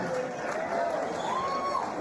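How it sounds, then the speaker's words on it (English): After a fight at a live combat event, the crowd gives a short round of applause and cheers, steady and fairly faint, with an announcer's voice over it. "give Josh a round of applause, please"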